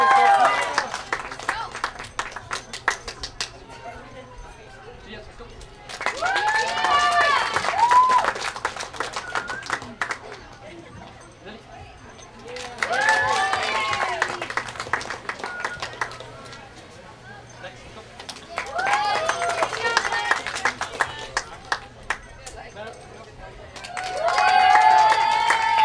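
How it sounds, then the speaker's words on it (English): Crowd applause and cheering at a youth soccer cup final awards, bursts of clapping and excited voices alternating with quieter gaps, with people talking throughout. "Thank you, round of applause."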